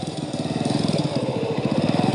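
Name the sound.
motorcycle engine in a Hindi horror story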